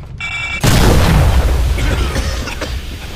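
A smoke grenade bursts in a team video game match, with a sudden loud, low boom after a brief tonal beep, then a long hissing rumble that slowly tapers.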